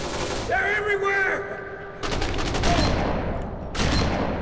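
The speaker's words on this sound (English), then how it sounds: "Oh, this shotgun is too good." Two heavy shotgun blasts boom out in Kane and Lynch 2: Dog Days, each a loud broadband crack, following a stretch of tonal game sound.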